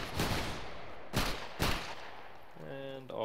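Musket volleys in the video game Battle Grounds III during a public linebattle: a loud, crackling burst of massed gunfire followed by two more sharp volleys in quick succession, then a sustained tonal call, like a voice or horn, near the end.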